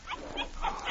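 Puppy in a radio drama giving a few quick, high yips and whimpering barks in a short burst, close and fairly faint, with no talking over it.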